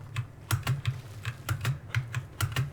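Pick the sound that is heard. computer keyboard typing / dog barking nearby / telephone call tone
computer keyboard typing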